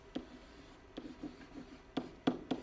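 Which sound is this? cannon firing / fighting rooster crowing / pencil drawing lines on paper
pencil drawing lines on paper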